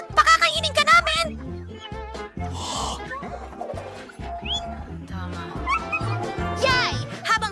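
A dog barking in a few short, sharp bursts, mixed with playful talk and voices of children and adults nearby, with background music in a lively indoor game setting.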